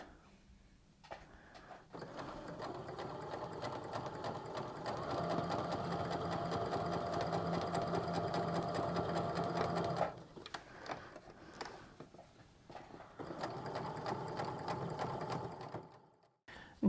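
Sewing machine stitching quilt pieces for half-square-triangle blocks, running in long steady bursts with a brief pause between seams, fairly close and alone.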